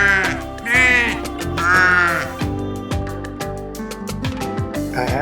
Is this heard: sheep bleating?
yes